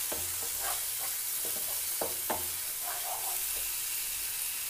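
Cumin and coriander powder stirred into spices frying in a pot for a Bengali village chicken curry, a steady sizzle under repeated scraping strokes of the spoon, close and fairly quiet, with no talking.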